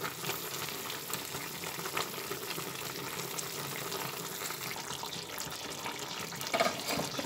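Vegetable curry with fried lentil dumplings bubbling in a pot of gravy, a steady moderate simmering hiss and burble that carries on evenly throughout with no voices.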